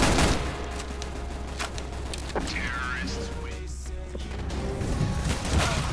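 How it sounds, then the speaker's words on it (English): Shotgun blasts from a teammate in the video game CS:GO, sharp loud bursts amid a dense, chaotic barrage of in-game gunfire and crashing effects. "That's not mine, that's my teammate's shotgun"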